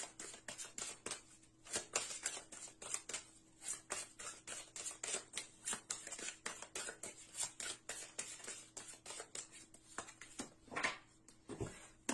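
Oracle cards from a dark goddess deck are shuffled by hand in a quiet room, giving a steady run of soft papery riffles and flicks that stay close and fairly faint throughout.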